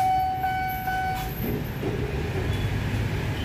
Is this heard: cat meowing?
no